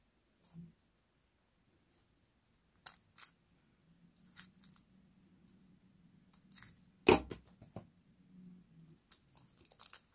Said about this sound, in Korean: 아래 다리를 가위로 잘라요.